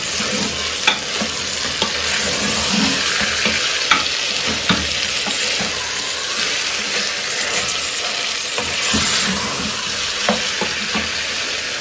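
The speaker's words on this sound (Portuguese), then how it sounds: "aí eu vou deixar fritar esse lado aqui também" Chicken pieces for stroganoff fry in a pan, a loud, dense, unbroken sizzle heard up close, with a few faint utensil taps and no voices.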